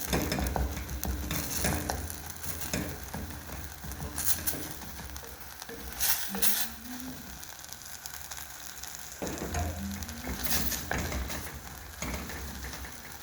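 Onions, tomato and capsicum sizzle in a hot pan, with a steady fry broken by scraping stirs and utensil clatter.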